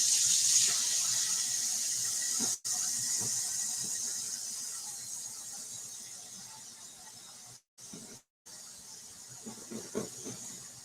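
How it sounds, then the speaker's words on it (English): Water runs from a kitchen tap into a sink with a steady hissing rush, close and continuous. There are a few short breaks and some light clatter toward the end. "I done let the water roll out"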